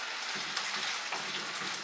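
Steady, dense sizzling of potatoes and onions frying in hot olive oil, a continuous crackle with no voices.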